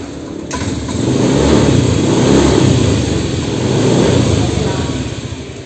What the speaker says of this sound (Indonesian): itu mesin susah untuk dihidupkan seperti ini tuh